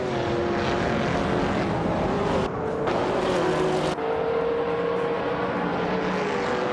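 Race car engines roar continuously at close range in a racing video game at Auto Club Speedway, with a classic 1970 Ford Mustang Boss among the field, droning tones shifting as cars pass and change pitch.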